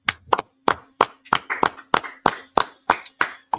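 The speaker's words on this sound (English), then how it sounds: "All right, let's clap it up." A group claps together in a steady, even rhythm, about a dozen sharp, close hand claps at a scripture breakdown class, with a faint steady hum underneath and no talking.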